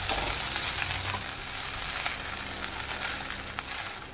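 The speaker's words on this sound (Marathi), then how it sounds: "पोहे आता व्यवस्थितरित्या हलवायचे आहे।" Poha is stirred in a pan of hot tempering oil, producing a continuous close sizzle laced with scraping and tossing scratches from the spatula. The sound is fairly loud and steady throughout, with no speech.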